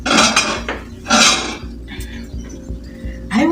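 Pots and dishes clank and clink in a kitchen while maize boils. Loud bursts of metallic scraping and clattering come close together, with quieter knocks and a low hum in between.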